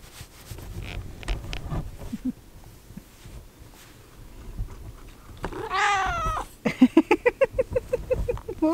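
A cat outdoors in cold weather gives a few loud, close meows, including one drawn-out wavering cry followed by a rapid series of short pulsing calls, over quiet background rustling.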